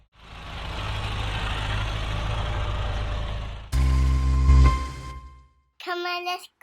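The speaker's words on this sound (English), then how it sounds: "we're gonna drive the big red tractor and we're gonna do some brush hogging." A big red farm tractor used for brush hogging runs its engine with a steady close idle, then shifts to a louder, rougher rumble before dropping off, followed by a short tonal burst.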